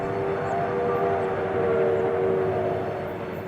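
A passenger train rumbles past a siding at night in steady, moderately loud continuous noise with a sustained tonal hum on top, no voices.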